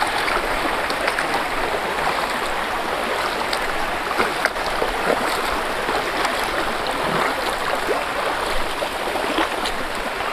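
A river stream flows steadily at a riverbank in a remote area, a continuous broadband rush of water that stays even and fairly loud throughout, with no voices.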